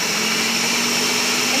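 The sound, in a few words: Ninja blender pureeing berries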